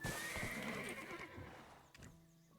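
A horse in the online game Black Desert Online gives a loud, clear neigh that fades, followed by a couple of hoof clip-clops near the end.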